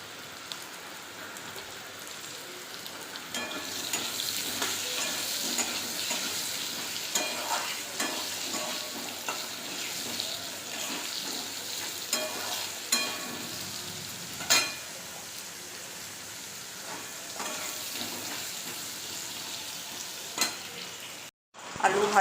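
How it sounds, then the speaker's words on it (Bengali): Potatoes frying in oil with salt and turmeric in a kadai, a continuous fine crackling sizzle with occasional stirring scrapes and pops, close and fairly quiet throughout, with no talking. "আলুগুলো আমি নুন হলুদ দিয়ে ভেজে নেব।"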